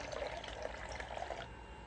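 Water running and trickling into a bowl of glutinous rice flour for mochi dough, a soft continuous pour lasting under two seconds and then stopping, close and quiet with no talking.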